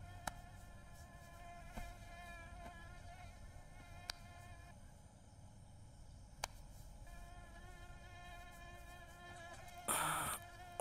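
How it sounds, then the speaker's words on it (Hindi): Mosquitoes whine with a thin, steady buzz that hangs faintly throughout, with a few brief clicks and a short louder rustle near the end. "मच्छर कितने हैं यार यहाँ पे"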